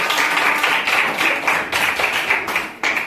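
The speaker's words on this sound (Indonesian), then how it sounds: "Kasih tepuk tangan kepada kelompok 4." A classroom audience applauds a student group after its presentation: dense, steady clapping from many hands fills the whole stretch at close range, with small dips in intensity.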